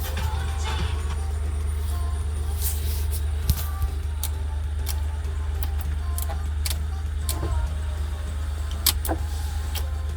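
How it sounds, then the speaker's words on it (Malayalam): Power windows run on a used car during a purchase inspection, with repeated short motor whirs over a constant low engine idle hum, heard close inside the cabin. "Power Windows 4."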